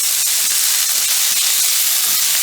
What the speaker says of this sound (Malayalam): സവാള നന്നായി ഒന്ന് വഴറ്റി കൊടുക്കാം.